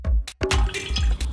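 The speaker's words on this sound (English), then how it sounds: "So we're just gonna put some water." Water poured into a pan to start a thick chili soy sauce for red snapper, a short broadband splashing rush with a brief break partway, close and fairly loud, no talking.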